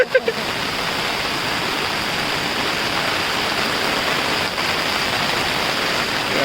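A small waterfall pours during heavy Konkan rain, making a dense, unbroken rush of water that stays close and loud throughout, with a few brief knocks at the very start.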